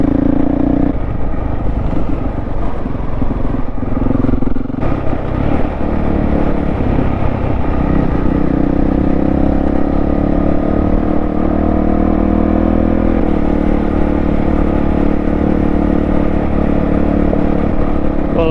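Honda CRF dual-sport motorcycle riding steadily over coarse gravel and clay track, a loud continuous engine drone with crunching, clattering tyre noise throughout, close and unbroken.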